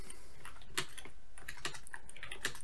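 Typing ad text on a computer keyboard: a steady run of crisp, close key clicks over faint background hiss, with no voices.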